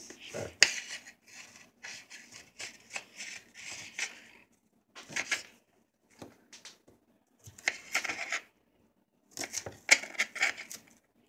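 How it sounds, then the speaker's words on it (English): Wild onions are chopped every few inches, giving quiet close-up bursts of crisp cutting and rustling, in clusters separated by short silent pauses. "So we're gonna be chopping the wild onions every few inches."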